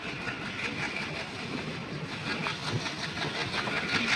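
An Alco diesel locomotive's engine runs steadily near the Pakistan border, giving a continuous broadband rumble and hiss that stays even in level with no pauses.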